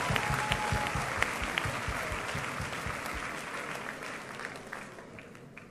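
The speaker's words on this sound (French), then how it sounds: "I want you to clap for Jesus Christ." Applause from a Christian conference audience in Brazzaville fills the room, a dense, steady clatter of many hands that stays loud throughout with no talking over it.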